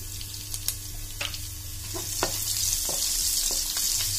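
Long-sliced ginger and garlic frying in oil for a chicken curry, a steady close sizzle with occasional sharp crackles and spatters from the pan, no talking.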